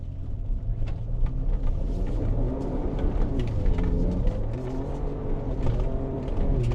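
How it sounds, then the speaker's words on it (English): A tuned Ford Ranger Raptor pickup accelerates at wide open throttle on a dusty dirt road, its engine a steady loud rumbling drone with rising and shifting pitch, heard from inside the cab throughout. "A little bit of road, a little bit of wide open throttle."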